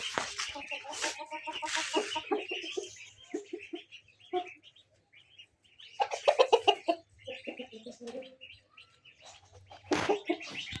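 Village hens cluck and chatter in bursts, near and fairly quiet, with pauses between the calls and faint background noise.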